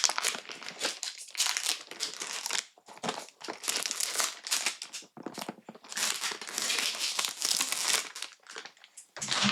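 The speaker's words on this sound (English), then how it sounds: "I'm going to take off plastic, and I'll be right back" Plastic wrap is peeled off a perfume box up close, producing continuous bursts of crinkling and crackling with short pauses between pulls, no talking.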